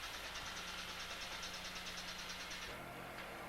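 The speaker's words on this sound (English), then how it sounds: "after tacking, the second lane can be paved. The paver is lined up so that there's a slight overlap into the first lane." An asphalt paver's engine drones steadily at mid pitch while paving a second lane of road, a constant rumbling hum with a slight shift near the end.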